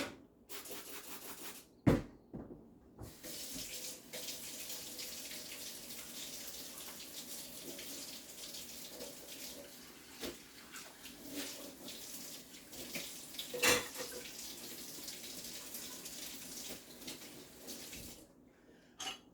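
A kitchen tap runs steadily into a sink while food is rinsed under it, a continuous splashing hiss with occasional clunks and rubbing, fairly close and without talk.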